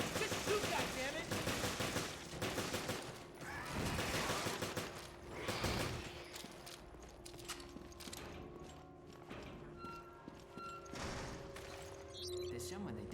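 Gunfire in Resident Evil: Revelations, bursts of rapid shots and heavy single bangs spread across the clip, fairly quiet overall, with stretches of quieter game sound in between.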